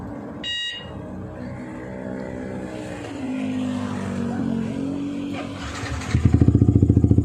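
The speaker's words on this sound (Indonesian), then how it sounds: "Motornya sudah bisa bunyi sendiri melalui remote ini." A short electronic beep sounds as a remote starter fires a Yamaha R15 motorcycle engine, which rumbles and rises, ending in a loud, rapid, throbbing idle close by.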